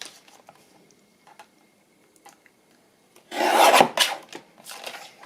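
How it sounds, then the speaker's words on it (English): Scissors or a blade trimming paper for an autumn and winter altered book: faint scattered ticks first, then a loud, close, rasping cut of about a second, followed by a couple of shorter scraping strokes. "Let's trim off a little bit more."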